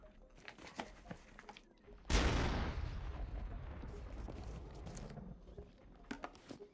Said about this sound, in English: That sounded like something blowing up, but I have honestly no clue what that was.